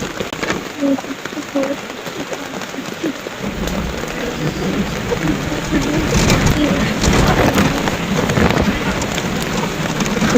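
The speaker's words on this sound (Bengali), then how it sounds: "ওই বৃষ্টি বৃষ্টিতে পুরো অবস্থা খারাপ হয়ে গেছে" Heavy rain pours outdoors in a dense, steady hiss that swells louder after a few seconds, with faint voices briefly audible early on.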